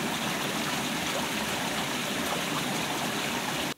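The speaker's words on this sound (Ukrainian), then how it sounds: "підземні води з якої стікають із труби прямісінько у річку неподалік" Groundwater from a mine gushes out of a pipe into a nearby river, a loud, steady rushing splash close up that continues unbroken and then cuts off abruptly.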